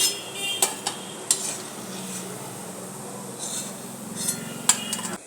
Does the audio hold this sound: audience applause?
no